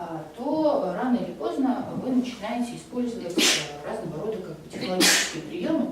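A sudden sharp sneeze bursts out in the middle of a Russian-language lecture on politics and elections, followed by another hissing burst, with the lecturer talking steadily throughout.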